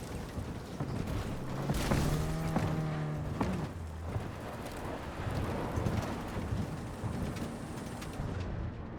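A thunderstorm in Cyberpunk 2077: steady rain hiss throughout with a rolling thunder rumble early on, a vehicle-like hum underneath, and faint distant cries scattered through the storm.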